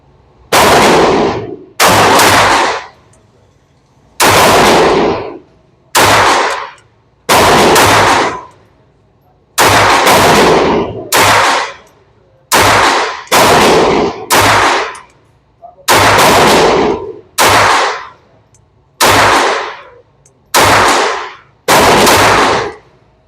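Taurus TX22 and Ruger 22/45 .22 pistols fired at a range, loud sharp cracks in a series of about sixteen shots, some in quick pairs, with short gaps between them.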